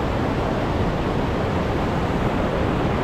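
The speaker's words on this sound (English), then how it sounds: "So here we are at the famous King's Weir in Hertfordshire on the River Lee." Water pours over King's Weir on the River Lee in Hertfordshire, a loud, unbroken roar of rushing flow that holds steady throughout with nothing else audible.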